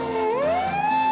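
A Japanese police car siren sounds close and loud, one continuous wailing tone sliding upward and then holding steady, alone with no voices.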